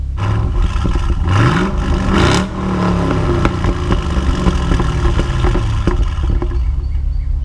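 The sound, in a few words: Chevrolet SS V8 exhaust revving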